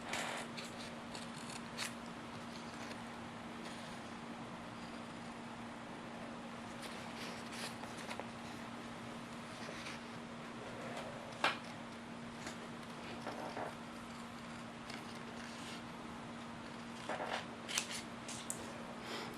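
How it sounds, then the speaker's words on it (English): Scissors cut along the edges of an iron-on transfer, a faint, close series of soft snips and paper rustles over a steady low hum, with a few sharper clicks scattered through and no talking. "I'm just going to cut straight right along the edges."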